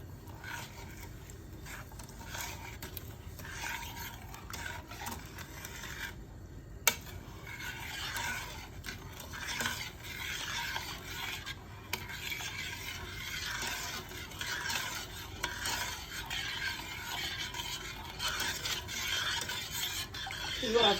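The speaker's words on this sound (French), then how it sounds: "on va remuer tout doucement" Sugar syrup for homemade honey stirred gently in a pot over medium heat, light continuous scraping and swishing of a utensil against the pot with faint sizzle, steady and close for a long stretch.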